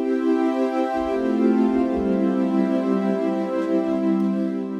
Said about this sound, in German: Und das ist hier der Retro-Synth in Logic.